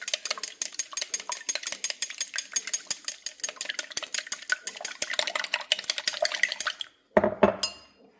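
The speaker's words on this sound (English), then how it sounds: "just give it a mix until it's well combined" Egg and cooked steamed rice being beaten in a bowl, a quick steady run of soft clinks and wet stirring strokes for several seconds, ending in a louder knock and scrape.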